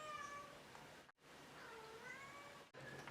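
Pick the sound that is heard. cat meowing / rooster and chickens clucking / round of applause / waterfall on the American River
cat meowing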